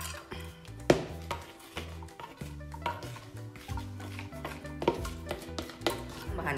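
A spoon stirs chocolate walnut sponge cake batter with a little baking powder in a bowl, producing soft irregular scrapes and clinks against the bowl, with quiet music playing underneath.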